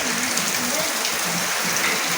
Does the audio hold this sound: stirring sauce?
no